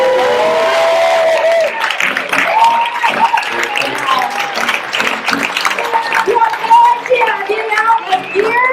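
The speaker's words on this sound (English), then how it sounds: "So we give a big round of applause." Sustained audience applause with scattered cheers for the sound and lighting crew at a summer talent show, loud and continuous, mixed with crowd voices and a speaker over it.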